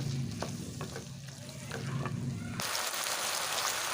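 Vegetable curry with curd stirred and heated in a pan, a steady frying sizzle with soft spoon scrapes, growing into a louder, brighter hiss in the final second.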